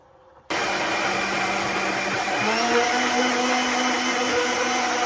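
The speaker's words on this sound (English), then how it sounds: "Gonna blend the apple that I showed you guys." A blender whirs loudly and steadily, blending apple with spices for Ghanaian sobolo hibiscus drink; the motor starts abruptly and its pitch shifts slightly as the load changes, running alone without talk.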